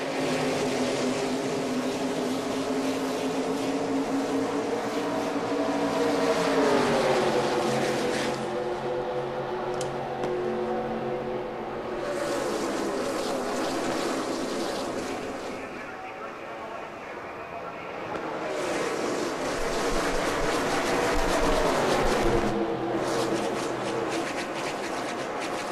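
Stock cars racing in the NASCAR Racing 2003 video game at Daytona, a dense continuous engine roar with pitch swells as cars pass, close and loud, while a commentator speaks over the racing.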